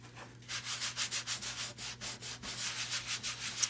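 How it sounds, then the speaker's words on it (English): Wax is rubbed by hand onto whitewashed wood furniture in steady, rhythmic back-and-forth strokes, close and even, with a low hum behind and no speech. "Now we're going to go ahead and wax the rest of these."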